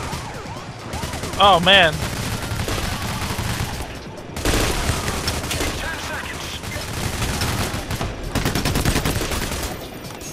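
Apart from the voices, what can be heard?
gunfire in video game PAYDAY The Heist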